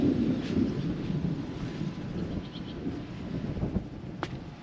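Thunder rumbles low and distant from a storm rolling in over a houseboat on Norris Lake, Tennessee, with gusty wind buffeting the microphone and a soft outdoor hiss beneath it.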